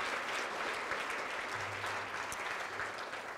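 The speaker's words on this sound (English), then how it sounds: "Let's give Shannon and Jennifer another big round of applause." Dense, steady applause from an audience at an alumni award ceremony in a hotel conference hall, a continuous wash of clapping heard at moderate distance with no talk over it.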